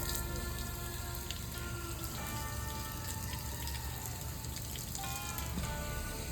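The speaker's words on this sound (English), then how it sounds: "you can tell by this, the hissing sound, which sound like a rain" Steady fizzing hiss of a micro bubble bath, like rain pattering on a surface, continuous and fairly close with faint tonal whistles running through it.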